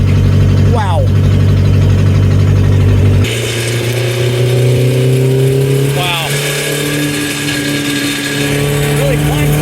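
A Lancia Fulvia HF V4 engine in a rally speedster drones loudly and continuously from close by, rising in pitch as it revs, with someone speaking briefly over it.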